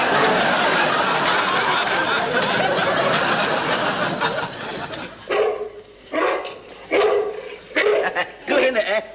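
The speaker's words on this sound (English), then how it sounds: "You naughty dog" A dog in a sitcom scene barks in a run of sharp, close bursts after a stretch of busy background noise, with people talking and chuckling nearby.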